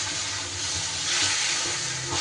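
Water from a rinsed mixer bowl pours into a pan of sizzling coconut and poppy seed masala with snake gourd, giving a steady loud hiss and steam that swells midway, with no talking.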